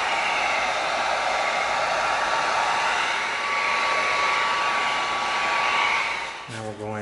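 A heat gun blows a steady, loud, close airy roar onto the bottom of an EVA foam piece, continuing without a break until a low shift in the noise near the end.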